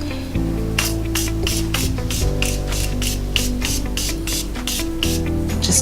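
A Morphe Mist setting spray hisses onto a face in about a dozen short, even bursts at a steady pace, close and crisp over a constant low background hum.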